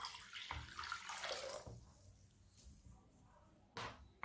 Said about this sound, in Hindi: इस पे भी आप ऐसे ही पानी डाल के,